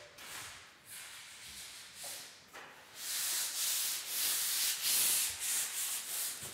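A drywall worker sands a ceiling smooth ahead of painting, producing a soft rasping scrape that comes in repeated strokes, quieter at first and then louder and more rhythmic, heard close with no talking.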